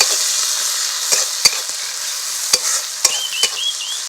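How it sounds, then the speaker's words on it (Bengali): Onions with green chili and five-spice fry in oil in a pan while being stirred, a close steady sizzle broken by several sharp spatula knocks and scrapes, no talking. "একটু নাড়াচাড়া করে নেব।"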